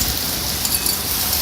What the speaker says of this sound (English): Wow. Heavy rain.